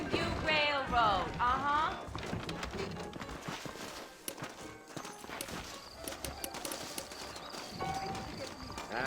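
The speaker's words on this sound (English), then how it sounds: "I got the horses saddled up and ready out front" Horse hooves clip-clop at a steady walking pace in the video game Red Dead Redemption, while music and voices play over them, with a whinny near the start.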